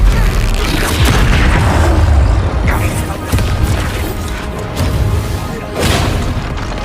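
A Bombarda explosion spell in the Hogwarts Legacy video game, loud sustained booming and crashing blasts with rumbling debris, fading then swelling again.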